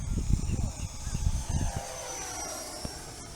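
A small 64mm electric ducted-fan jet engine on a FlyFans L-39 RC model, flying at half throttle on 6S power, whines steadily as it passes, its high tone sliding downward as it moves away, with some handling noise early on.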